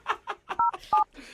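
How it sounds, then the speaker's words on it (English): Someone dials a phone number, and two short, loud keypad tones sound between bursts of nearby voices talking quickly. "just dial the phone number right now"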